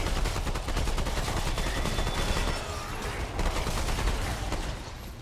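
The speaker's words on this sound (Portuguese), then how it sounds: "Nossa, ele tá dando tiro." Enemy gunfire in the video game Remnant 2: rapid, dense bursts of shots ring out in loud, continuous volleys, with a brief lull before the firing resumes.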